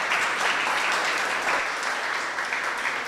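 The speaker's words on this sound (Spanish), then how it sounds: "le damos con un fuerte aplauso una bienvenida" An audience gives sustained applause to welcome a lecturer at a university science conference in Lagos, a thick, steady clatter of many hands at moderate level with no talking.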